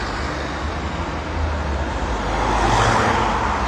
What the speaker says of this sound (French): Je suis en train de regarder les voitures